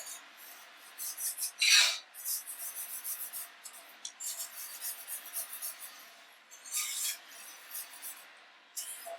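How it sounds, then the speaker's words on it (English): Gravy being whisked by hand in a pan as it thickens, a soft raspy scraping that comes in short bursts with pauses, fairly close and quiet, no talking. "make sure that as you go, you're going to whisk out all those little chunks"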